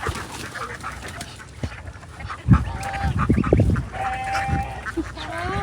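Farm ducks near water honking and quacking in short irregular bursts, moderately close, over a quiet outdoor background.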